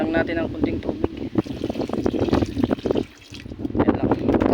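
A small amount of water is poured into a cooking pot with garlic and tomato, giving a close, bubbling splash and trickle. A person speaks throughout.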